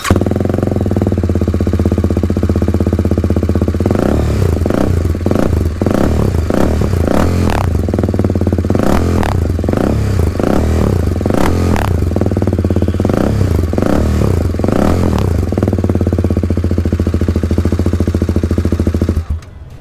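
A TVS Apache RR 310 motorcycle fitted with an Akrapovic 6-cut exhaust and dB killer idles loudly, then revs repeatedly in short rising bursts before settling back to a steady, rumbling idle.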